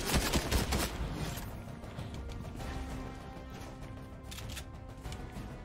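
Gunshots in the Fortnite video game, a cluster of quick shots near the start fading into a steady, moderately quiet background of game ambience.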